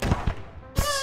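Fireworks in the VR game Cold Iron: two quick dull pops followed by a sharper crackling burst, short and fairly loud, no voices over them.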